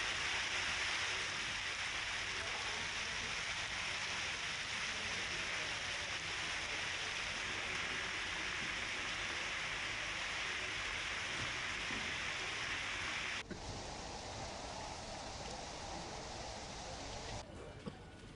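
Heavy rain pours steadily in Bodeli, Chhota Udepur, in a dense, continuous hiss, changing in tone near the end, with no voices.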